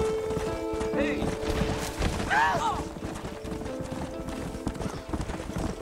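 Horse hooves clip-clop steadily in Red Dead Redemption, with a horse whinnying partway through and talk mixed in.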